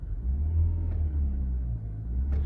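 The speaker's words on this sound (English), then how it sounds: "there's really not much revving to it just because it is a hybrid" A 2019 Chevy Malibu Hybrid engine hums in a low, steady rumble with only a slight rise in pitch and no sharp rev, heard close and without talk.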